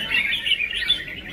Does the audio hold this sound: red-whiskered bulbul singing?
yes